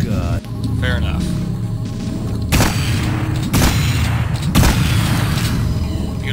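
Shotgun blasts in Duke Nukem 3D ring out as three loud, evenly spaced booms over game sound and background noise, with someone talking throughout.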